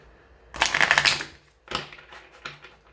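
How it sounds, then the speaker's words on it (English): Tarot oracle cards being shuffled by hand: a burst of riffling flutter, then two shorter shuffles, close and crisp in a quiet room. "Give it a nice couple of shuffles."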